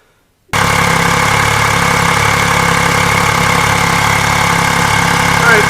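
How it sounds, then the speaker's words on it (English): A 2015 Yamaha FJ-09 motorcycle engine fitted with new iridium spark plugs catches suddenly and then settles into a steady, even idle, loud and close, running smoothly without voices. "I just started the bike. It's running just fine on the new Iridium spark plugs"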